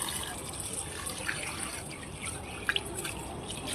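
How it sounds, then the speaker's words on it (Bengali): Tap water runs steadily and faintly while a scaled fish is washed, with soft splashing and a couple of small clicks near the end. "এই যে তো চলো মাছটা ভালো করে ধুয়ে নিই"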